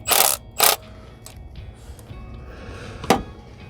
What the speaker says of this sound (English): Tighten the bolt.